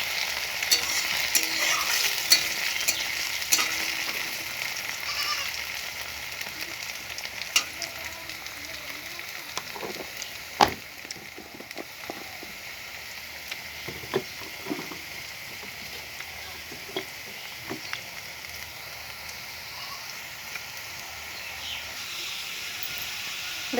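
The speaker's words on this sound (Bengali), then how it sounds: "হলুদটা দিয়ে আলু ভাজা, একটু ভাজা ভাজা করলে আলু ভাজার কালারটাও ভালো আসে।" Potatoes frying with turmeric in a pan give a steady, close sizzle and hiss, with scattered clinks and scrapes from stirring throughout.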